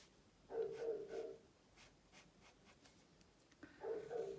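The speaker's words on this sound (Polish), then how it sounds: "Mam nadzieję, że to szczekanie nie będzie aż tak przeszkadzało tutaj w nagraniu." A dog barks outside in a garden, heard indoors through closed windows as two muffled, distant bursts of barking, with quiet pen-on-paper scratching in between.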